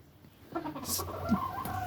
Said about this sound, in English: this big 15-pound chicken comes roosting on my ankles